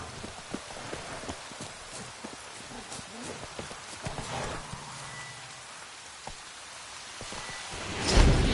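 Horse hooves clip-clopping in a video game, a quick run of close, steady hoofbeats with a soft rain-like rustle beneath and a whoosh near the end.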